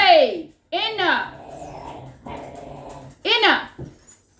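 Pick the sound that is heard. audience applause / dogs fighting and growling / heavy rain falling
dogs fighting and growling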